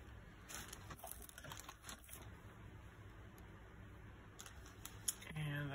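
Scissors snip paper for an art journal mosaic: a few faint, quiet crisp cuts and rustles close by, with brief handling noises around them.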